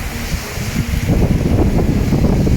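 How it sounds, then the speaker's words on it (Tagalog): Steady roaring wind buffets the microphone while ocean waves surge and wash continuously in the background, loud and close, on a white sand beach at Patar, Bolinao, Pangasinan. "malakas po yung hangin at malakas din po yung alon"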